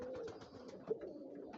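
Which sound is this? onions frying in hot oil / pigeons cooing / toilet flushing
pigeons cooing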